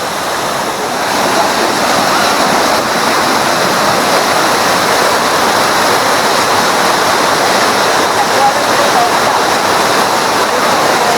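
Rongoh waterfall in a forest in Aceh Tamiang rushes in a steady, loud, broadband roar that holds unchanged for the whole stretch, with no voices over it.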